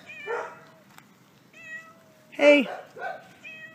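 A found cat meows several times up close, with clear, loud, drawn-out cries. A person briefly speaks to it between the meows.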